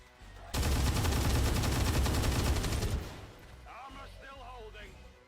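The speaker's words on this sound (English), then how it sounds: "Shoot him again anyway." Dense burst of rapid gunfire from XCOM 2, loud and continuous for about two and a half seconds, then cut off as a voice speaks over quieter background sound.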